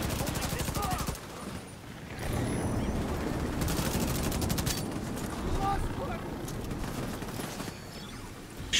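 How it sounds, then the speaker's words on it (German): Sustained automatic gunfire in The Division 2 is fired into fog in a castle garden, loud rapid bursts with a short pause before the shooting resumes and runs on steadily. "Ich schieße einfach in den Nebel rein"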